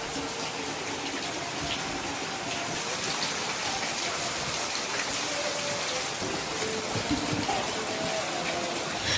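Heavy rain pours steadily on a farm, a dense, even hiss of water that stays loud and unbroken throughout, with no clear talk over it.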